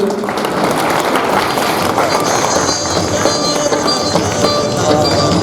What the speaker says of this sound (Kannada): ಜೋರಾದ ಚಪ್ಪಾಳೆಗಳಲ್ಲಿ